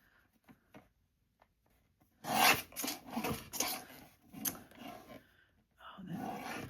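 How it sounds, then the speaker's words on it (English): A paper trimmer slicing paper for a tall hidden paperclip craft, with a slightly nicked blade: a series of close, scratchy rasping cuts in short strokes, then a longer drawn-out pass. "I think I will go trim this a little bit further too, get it closer to that full one."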